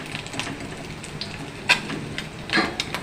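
Fish frying in hot oil, a low, soft sizzle with scattered crackles and a couple of louder spits, heard close with no one talking.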